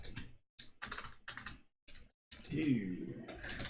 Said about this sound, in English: You want me to wait till you're done typing